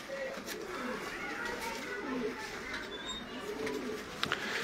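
Teddy pigeons coo in a steady, low murmur over a busy background of voices and other birds, the soft rolling calls overlapping without a clear break.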